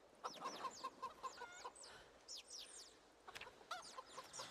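Many chickens cluck and chatter in a busy, continuous flock in Project Zomboid, quick overlapping clucks at moderate distance, no voices.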